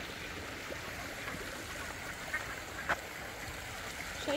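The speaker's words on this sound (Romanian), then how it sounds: "Aici sunt rățuștele." Ducks by a stream in Gernika, Spain, give a few faint, brief quacks over a steady murmur of flowing water.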